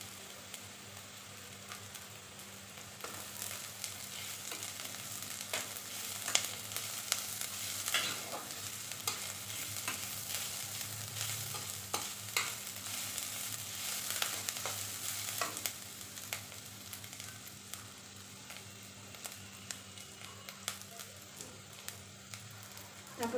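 Garlic and ginger paste for ghugni fries in a pan with a continuous close sizzle, punctuated by frequent scraping strokes of a spatula stirring it.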